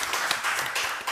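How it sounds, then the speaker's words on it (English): Audience at a scientific conference applauding, a short burst of dense hand clapping from a crowd in a hall. "yes, please make an applause"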